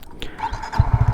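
A motorcycle engine starts, giving a quick run of deep, rhythmic low pulses that build up near the end of a very short moment.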